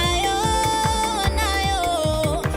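A music mix plays before any stereo imaging is applied: a steady rhythmic drum beat under sustained melodic and harmonic tones, continuous and fairly loud with no voices.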